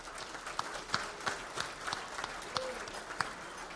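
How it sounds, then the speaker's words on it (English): Audience applause at a chamber of commerce annual meeting, with scattered individual claps standing out over a steady patter of hands; moderate in level and slightly distant, with a faint voice in the background. "Tom, big round of applause."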